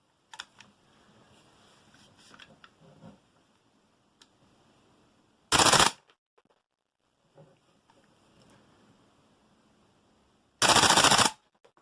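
A Tokyo Marui Type 89 gas blowback airsoft rifle, stock, loaded with 0.2 g BBs, fires two short loud full-auto bursts of rapid cracks, separated by quiet clicking and handling noises.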